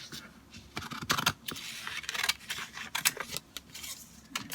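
Scissors snipping through paper while cutting out a DIY book-style box kit, a series of close, crisp cuts in uneven bursts with short pauses between them.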